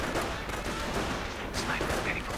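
Rifle fire in a real-time strategy video game, snipers shooting at panzers; dense crackling volleys of small-arms shots mixed with battle noise, continuous and fairly loud, with a voice talking over it.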